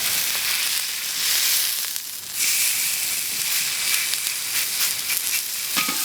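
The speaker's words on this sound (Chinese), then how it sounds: "咱们这个牛排呢腌制好了，给它刷一下油，开始煎啊。" A marinated beef steak sizzles in an oil-brushed pan, a continuous close hiss and crackle with a brief dip partway through before it picks up again.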